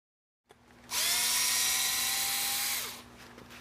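Power driver fitted with a 2.5 mm hex bit backing thread-locked screws out of an Arrma Senton RC car, a single close whine of about two seconds that starts sharply and then winds down.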